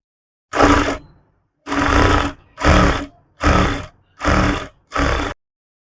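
Sewing machine stitching a half-inch folded hem on sleeves of a kids' designer long frock, running in six loud, close bursts separated by short pauses.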